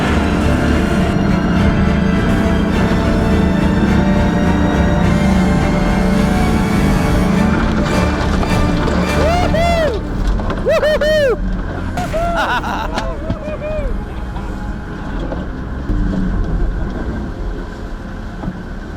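A 4WD climbing a Simpson Desert sand dune under hard throttle, its engine roaring loud and close with wind buffeting and rising, whining revs as wheels spin and it crests the top.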